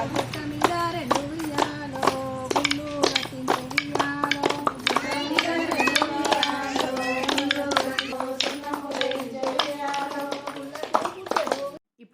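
Hands clapping in a steady, quick rhythm as people play Bathukamma in a festive circle, with singing voices and chatter woven through the claps, close and continuous until a sudden stop at the end.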